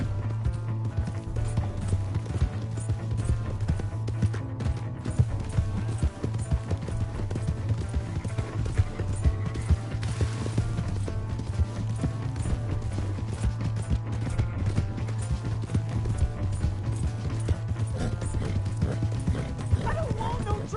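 Galloping horse hooves in Red Dead Redemption 2 game play, a steady clip-clop beat running the whole way through under a loud drone, with shouting voices heard at times.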